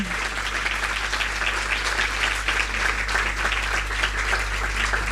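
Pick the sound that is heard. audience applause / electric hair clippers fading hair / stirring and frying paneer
audience applause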